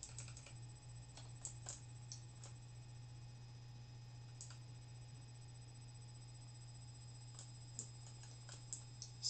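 Scattered keystrokes tapped on a sticky computer keyboard during a Pokemon Platinum game session, quiet and irregular clicks over a steady low electrical hum, with no talking.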